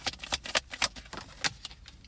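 Tarot cards being shuffled by hand, a quick run of soft papery riffles and taps in uneven bursts, close and fairly quiet with no talking.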